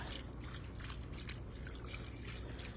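Chicken broth pours into a pot in a home kitchen, a quiet, steady liquid stream with soft trickling over low background noise.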